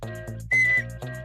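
Whistles blown on a radio show, several short shrill tones over a bouncy music bed, the loudest held for a moment in the middle.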